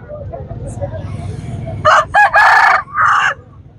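A desi rooster crows loudly and close by in a few sharp bursts at a Sunday poultry market in Quetta, following soft low clucking and background murmur.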